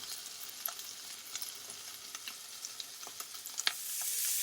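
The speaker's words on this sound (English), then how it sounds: "all we're looking to do is just sear it on one side" Shrimp searing on one side in a hot pan, a faint, steady sizzle with scattered light crackles and pops, rising into a broader hiss near the end, no one speaking.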